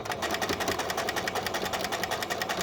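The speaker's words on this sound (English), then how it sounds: "I'm going to pop it into the machine, back stitch," A sewing machine stitches the sleeve and cuff of a small bear's outfit, a fast, even mechanical clatter that runs steadily at moderate volume with no talk.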